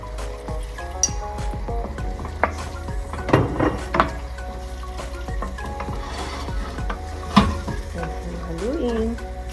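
Chicken stew with soy sauce stirred in a frying pan, a steady sizzle with scattered clinks and scrapes of the utensil against the pan and faint voice in the background.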